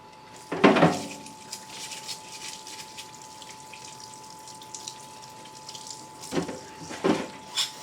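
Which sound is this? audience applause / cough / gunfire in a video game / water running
water running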